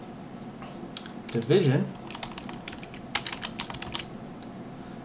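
Computer keyboard typing during a Python programming lesson, a scattered run of light clicks and taps with a louder burst of keystrokes near the start, a person speaking briefly over the quiet typing.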